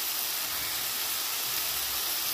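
Brinjal slices frying in hot oil with a little turmeric and salt, a steady, bright sizzling hiss that fills the space evenly throughout, with no talking.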